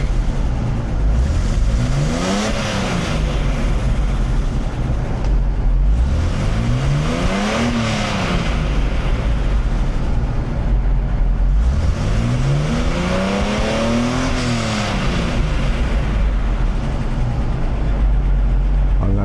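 A Mercedes C107 280 CSL engine runs after its fuel distributor fault was repaired. It holds a steady, loud idle near 1000 rpm and rises in pitch three times in slow, even revs before settling back.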